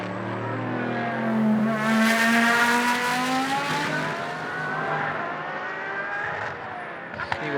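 A Reiter Engineering Lamborghini race car during a free practice session, its engine note rising and falling as it passes at speed, loud and fairly close, with a long whining tone throughout.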